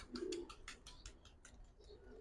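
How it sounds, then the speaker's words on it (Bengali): Giribaz high-flyer pigeons cooing in a loft, a series of soft rhythmic coos repeating close by, with faint chirps and no talking. "গিরিবাস যারা রেজাল্ট করতে চায়, বাচ্চা কাচ্চা উড়াইতে চায়, শুধুমাত্র তাদের জন্য ভাই এই 2 পেয়ার কবুতর"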